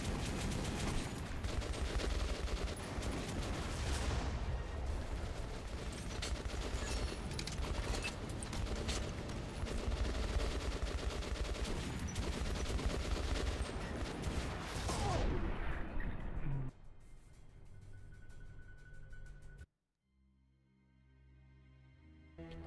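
Sustained automatic gunfire pours at a boss in Metro: Last Light, loud and continuous for about sixteen seconds, then cuts off abruptly into quiet mechanical hum and near silence.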